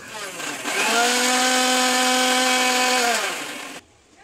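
An electric mixer grinder whirs steadily for about three seconds, grinding roasted onion, garlic, tomato, cumin, coriander and whole spices into a masala paste for a prawn dish, then cuts off.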